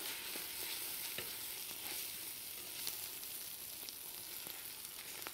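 Rice and tomatoes stirred together in a pot for an oven-baked maqluba, a quiet, steady sizzle with soft scraping knocks from the spoon scattered throughout.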